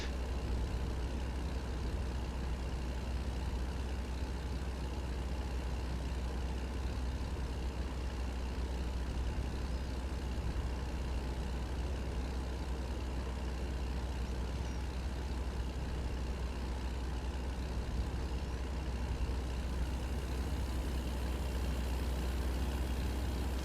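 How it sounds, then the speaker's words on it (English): A Cat diesel truck engine runs steadily at idle in a truck game, a constant low rumble with a faint hum above it, unbroken throughout. "the engine on this truck does sound nice"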